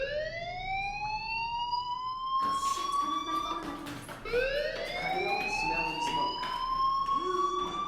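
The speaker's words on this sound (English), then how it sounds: "do you hear that fire alarm?" Fire alarm in the video game Life is Strange, a steady electronic tone sweeping upward in repeated rising whoops, loud and continuous, with muffled game sounds layered underneath.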